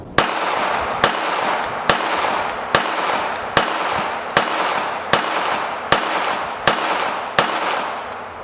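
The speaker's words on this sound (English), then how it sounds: "We're going to be shooting some defensive ammo. This is Hornady Critical Defense." A Sig P365 pistol chambered in .380 ACP fires Hornady Critical Defense rounds in a steady string of about ten sharp, loud shots, spaced under a second apart. Each crack trails off in a short echoing decay.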